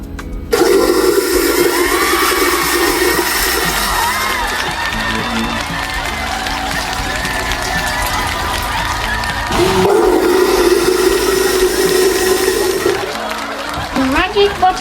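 A boat's marine toilet flushes with a loud rushing, gurgling surge of water that runs for several seconds, then swells again near the end.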